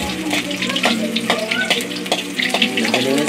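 Garlic sautéing in a pan, a steady busy sizzle with irregular stirring knocks and scrapes, fairly loud and close, with no talking over it.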